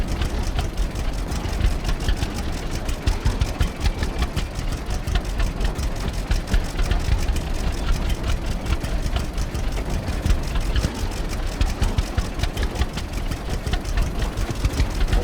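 A tractor engine idles in the farming game Farmers Dynasty, a continuous low rumbling chug with fast even pulsing, close and steady with no talk.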